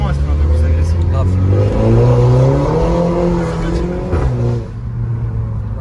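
A car engine revs hard as the wheels spin and the tires squeal, pitch rising and wavering before dropping away, loud and close, with people talking over it.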